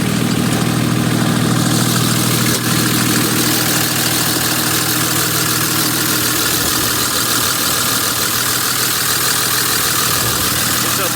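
A 2006 Dodge Ram Megacab manual with a Cummins diesel and a big single Borg Warner S464 turbo runs at a loud, steady idle, a close, continuous rumble with a hissing turbo whine layered on top.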